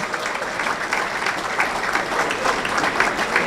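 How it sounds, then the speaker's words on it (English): Steady applause from a room full of people, a dense wash of clapping that holds at an even level without pause. "So a little round of applause for Avon Oaks."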